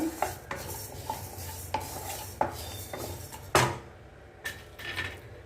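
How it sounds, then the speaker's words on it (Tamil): Coriander seeds dry-roasting in a hot pan, stirred so a steady low rustle runs under a string of sharp scrapes and clicks from a utensil against the metal, one louder knock partway through. "தனியா நல்ல சூடையில வாசமாக நல்லா வறுத்துக்கோங்க"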